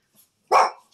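A dog gives a single short, loud bark close by, with nothing else around it.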